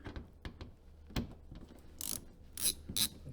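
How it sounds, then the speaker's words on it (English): Bolts being unscrewed from the plastic engine undertray of an Audi A2, giving several short, quiet ratcheting clicks and scraping bursts, with three sharper metallic rasps near the end. "So I will start by removing the bolts on the left side"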